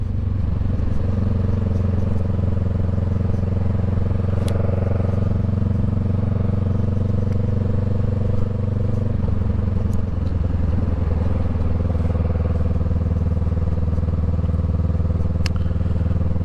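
Honda Rebel 500 motorcycle fitted with a Shorty GP exhaust, heard while riding on a road: a steady, loud, deep exhaust drone with a throaty rumble and faint crackle, continuous throughout.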